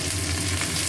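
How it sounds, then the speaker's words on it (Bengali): Potatoes and tomatoes frying in a pan over onions that have already been fried, giving a steady, close sizzle with a soft crackle throughout and no talking. "টমেটো এগুলো ভাজবো।"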